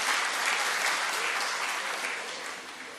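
An audience in Pune breaks into dense, loud applause to welcome a guest, a continuous wash of clapping that holds steady for three seconds and eases slightly toward the end.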